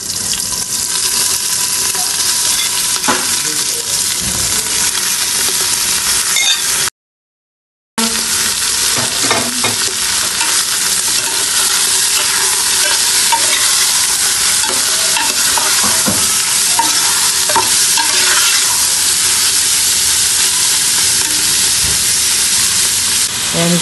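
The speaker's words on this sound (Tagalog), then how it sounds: "Ngayon ilalagay ko na tong hiniwa ko mga laman loob ng baka." Chopped beef offal sizzles loudly in a pot with garlic while it is stirred, a dense continuous frying crackle with scraping, briefly cut to silence partway through.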